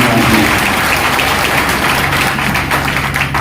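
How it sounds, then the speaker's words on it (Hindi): A seminar audience breaks into loud, sustained applause, a thick wash of clapping hands close to the microphone for several seconds. "अपने सीएमडी सर के लिए जोरदार ताली बजाएं।"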